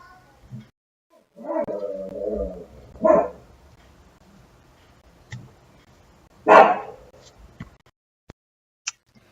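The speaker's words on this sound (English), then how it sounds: "Ooh, now my dog's barking." A dog barks indoors in a few separate bursts, a longer howling bark early on, then a sharp single bark, and a later loud bark, with quiet gaps between them.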